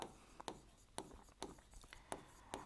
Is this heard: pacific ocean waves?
no